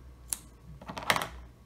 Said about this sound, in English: Take my pair of scissors